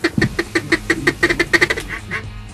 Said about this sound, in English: here's the first duck of the morning.